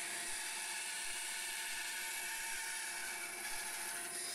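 A bandsaw cuts wood for a dog-shaped potplant holder, taking sharp corners a little at a time. It gives a steady, high, whirring hum with a faint cutting hiss, continuous and moderately quiet, with no talking.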